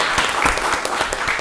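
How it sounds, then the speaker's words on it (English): A dense, loud burst of applause fills the room at a county board of commissioners meeting, with many hands clapping close together without a break. "Give him another round of applause."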